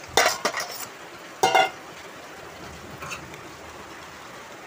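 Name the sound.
stirring fried taro in a cooking pot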